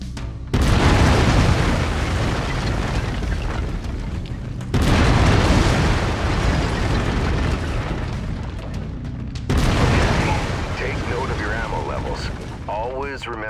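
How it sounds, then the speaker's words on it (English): In the video game Mechwarrior 5 Mercenaries, an autocannon fires three heavy booming bursts, each a loud, close blast that decays into a long rumbling roar over several seconds, with faint voice chatter in the background. "I've mapped the autocannon to Weapon Group 1. You're free to fire whenever you're ready."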